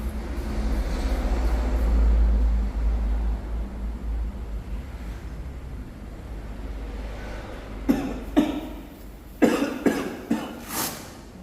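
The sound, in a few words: cough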